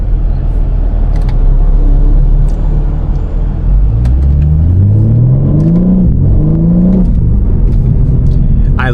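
BMW M3 Competition engine revving hard on a street drive, a loud close roar climbing in pitch through successive gear shifts with a dip at each change.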